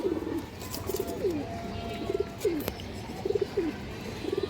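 A pair of jira-gola pigeons coo in a rhythmic, repeating pattern of throaty rolling calls with rising and falling phrases, heard close and fairly loud against quiet background noise.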